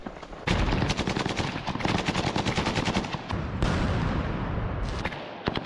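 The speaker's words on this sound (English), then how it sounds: "The sound of small arms fire can be heard everywhere in the bushes." Small arms automatic gunfire in bushes during a combat assault, rapid bursts of loud cracking shots overlapping almost continuously, close and harsh.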